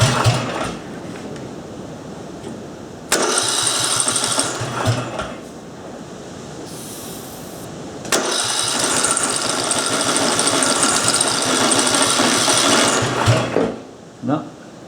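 A Briggs and Stratton engine cranks over with starting fluid but doesn't fire, giving two long bursts of rapid mechanical whirring and chugging separated by a quiet pause.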